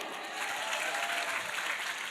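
An audience breaks into applause, a dense, steady wash of clapping hands from many people that carries on throughout without any talking.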